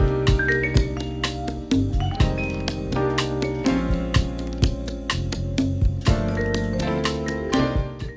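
Bright vibraphone tones ring out over a tight funk groove with bass and drums, notes struck in quick, shimmering phrases.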